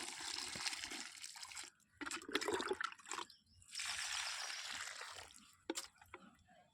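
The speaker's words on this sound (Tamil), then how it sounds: "இப்போ வந்து மொத்த செடிங்களுக்குமே நான் தண்ணி ஊற்றி முடிச்சிட்டேன்" Water poured over plants in a small home flower garden, a steady splashing trickle that runs in long stretches with short breaks, close by and fairly soft.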